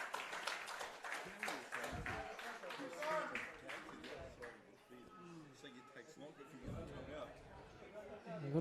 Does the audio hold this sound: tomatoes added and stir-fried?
no